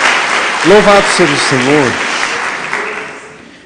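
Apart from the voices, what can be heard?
congregation applause in church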